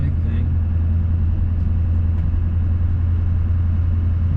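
A Chevrolet Silverado's Duramax diesel idles on a cold start, a steady low, loud rumble that holds without change throughout, with a few faint clicks on top.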